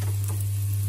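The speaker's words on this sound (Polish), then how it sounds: "czosneczek delikatnie smażyć na naszej oliwie z oliwek, to od razu już dodajemy czosnek" Garlic fries in olive oil in a pan, giving a soft continuous sizzle under a loud steady low hum.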